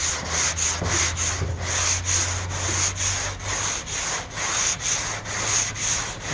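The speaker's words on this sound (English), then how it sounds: "Let the sandpaper do the work. All you have to do is move the block." Sandpaper on a sanding block rubs steadily over the hood of a 1970 Chevelle in long, regular back-and-forth strokes, a close, loud, even scratching with a low motor hum underneath.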